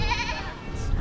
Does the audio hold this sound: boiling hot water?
no